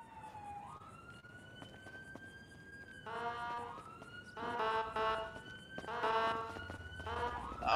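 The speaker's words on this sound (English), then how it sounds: "I like that horn sound on Huskies." Siren-like horn of a Huskies vehicle in an animal control roleplay game, a rising tone that holds steady and then repeats in louder rhythmic pulses against quiet background noise, with no talking.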